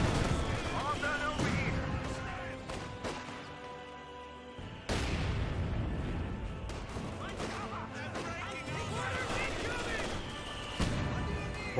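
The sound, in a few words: mortar hit in video game Company of Heroes 2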